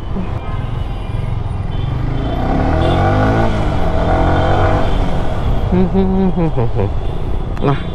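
Busy road traffic with cars passing and engines rumbling close by, a continuous loud roar with a rising pass-by and horn-like tones near the end, while a person talks over it.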